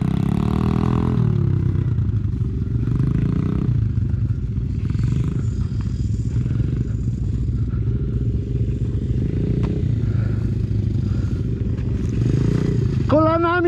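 An enduro motorcycle engine drones steadily through an off-road riding lesson, its pitch rising and falling with the throttle and a brief sharp rev near the end. An instructor's voice can be heard calling out in places.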